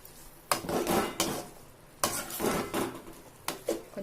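Eggplant sautéing in a pan for kathirikai kurma kuzhambu, a spoon scraping and clattering against the metal in repeated stirring strokes over a soft frying sizzle, close and without talk.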